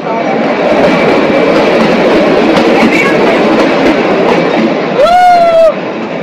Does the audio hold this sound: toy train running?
yes